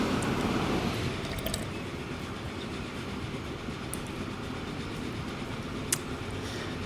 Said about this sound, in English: Do you think I've got too many trains running about on this track? They all keep getting held up by each other.